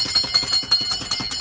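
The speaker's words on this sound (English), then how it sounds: "You'll wear my batteries out of my new doorbell." A new doorbell rings several times in quick succession, a bright repeated electronic chime pattern that is fairly loud and close, with no talking over it.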